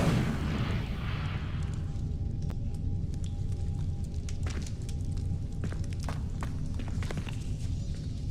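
An Incendio fire spell cast in a video game opens with a loud, roaring burst of flame that fades into a low rumble, followed by scattered sharp thuds and footsteps.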